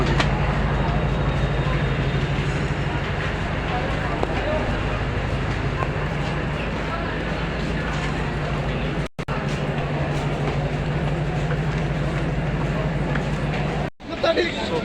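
A passenger train arriving at Jalandhar railway station gives a continuous heavy rumble and rattling roar from inside, with muffled crowd babble beneath and two short dropouts.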